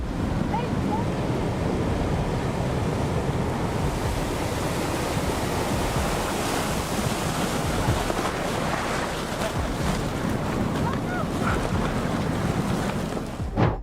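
A flash flood debris flow surges after a thunderstorm, a loud, unbroken roar of rushing water and churning debris that fills the whole stretch without letup.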